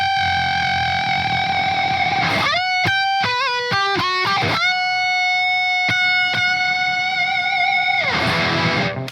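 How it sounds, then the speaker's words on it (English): Electric guitar played through a Graphene pedal set to reverb with added gain: sustained distorted notes, a burst of quick staccato stabs, then a long ringing held note, loud and saturated with a spacious wash. "One thing I like to do is to use just the reverb. If I put some gain on here"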